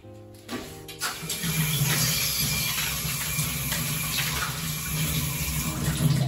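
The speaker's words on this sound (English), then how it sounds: "First things first, remember to wash your fruits." Fruit rinsed under a running kitchen tap, a steady loud gush of water that starts after a short clatter and pours continuously throughout.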